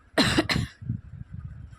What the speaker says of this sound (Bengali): দেখছো কাশি হচ্ছে।